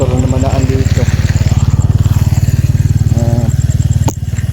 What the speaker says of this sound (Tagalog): may mga motor na dumadaan dito.